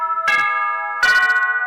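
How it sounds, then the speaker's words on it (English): Two bright electronic chime tones from a phone ring out one after the other, each a clear harmonic ding with a lingering tail, loud and close with no talking over them. "The phone had to chime in on that"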